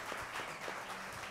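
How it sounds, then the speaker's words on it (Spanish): Studio audience giving a short burst of clapping, faint and brief, a soft patter of hands at low level. "Sí, un aplauso, por favor"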